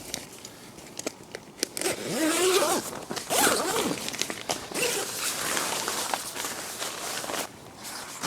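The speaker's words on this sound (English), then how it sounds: "We'll just join the zip up again." A zip is run along the ground sheet of a Prologic Commander VX2 bivvy, giving several drawn-out zipping strokes with short rustles and scrapes of the fabric between them, close and fairly loud.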